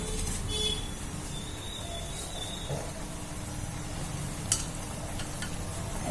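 Pieces of pearl spot fish (pa mullan) dropped one by one into a boiling fish curry gravy, giving a steady low bubbling simmer with faint splashes and a brief clink near the end, no talk.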